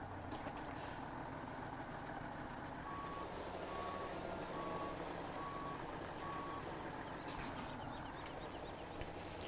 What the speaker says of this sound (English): let's get this truck hooked back up and parked somewhere